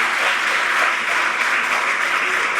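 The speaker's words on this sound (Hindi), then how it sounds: "एक बार थोड़ा अपने लिए तालियां बजा दो यार" Steady audience applause fills the room at a radio RJ talk, a dense even wash of many clapping hands at fairly close range with no voices on top.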